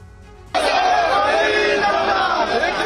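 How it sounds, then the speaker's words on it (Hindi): Large crowd of political supporters outside an Enforcement Directorate office breaks into loud collective shouting and slogan chanting after a quiet start, a dense roar of many voices sustained to the end. "समर्थकों ने ईडी की कार्रवाई के खिलाफ जमकर नारेबाजी की"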